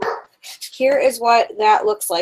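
A pet dog barks and whines in short bursts from another room, partly muffled, while someone talks over it close by.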